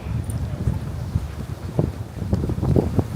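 Wind gusts buffet the microphone on a New York City street between Kips Bay and Chinatown in January, a loud rumbling roar with muffled thumps and low street noise mixed in.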